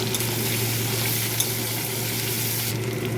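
Thin-sliced potatoes sizzle steadily in a wok of hot oil seasoned with black cumin, a close, continuous hiss and crackle with no voices.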